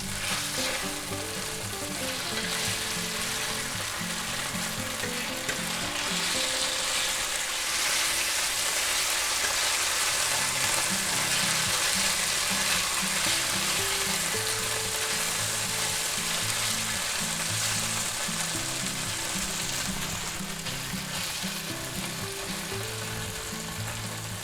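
Shrimp fry loudly in a hot pan for shrimp and roasted pork fried rice, giving a dense, continuous sizzle with an underlying hum that holds strong the whole time.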